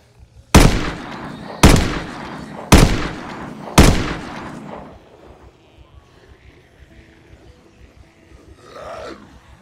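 Gunfire in Project Zomboid, set in a church at Raven Creek: four loud, evenly spaced heavy shots, about one a second, each booming and then decaying, followed by quieter ambient noise.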